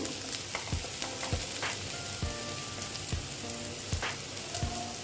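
Finely chopped onions frying in a pan for a Bengali egg curry make a steady, soft sizzle with scattered crackles and light stirring scrapes, fairly quiet and without talk.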